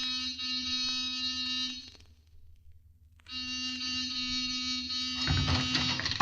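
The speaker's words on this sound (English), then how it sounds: "Give the buzzer a punch." A harsh electric door buzzer drones loudly for about two seconds, pauses briefly, then sounds again in a second long, steady burst.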